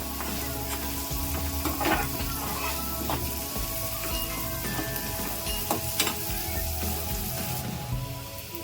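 Onion and garlic fry in a pan, a close, steady sizzle with crackling pops and occasional stirring clinks throughout, no one talking.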